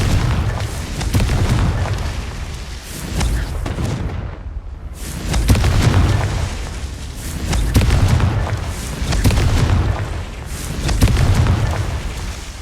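Repeated Confringo fire-blast spells explode in Hogwarts Legacy, loud booming bursts rolling one after another with rumbling tails and a brief quiet gap between.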